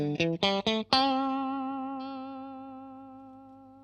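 Electric guitar lick through a Pigtronix Philosophers Tone compressor pedal: a few quick plucked notes, then one long sustained note that rings on and fades slowly and naturally, played alone and fairly close.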